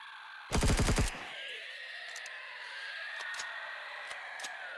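A short, loud burst of rapid gunfire in the survival game Empyrion Galactic Survival, lasting about half a second, followed by a steady ambient hum with a few faint, sharp clicks.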